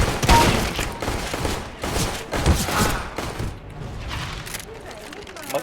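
Shotgun fire in Counter-Strike: Global Offensive, with several loud single gunshot booms in sequence among in-game noise, while someone talks over it.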